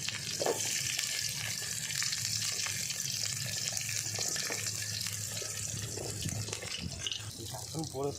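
Water pours into a pan of drumstick stir-fry with mustard seeds, giving a continuous watery rush and sizzle under steady background noise and a voice talking over it.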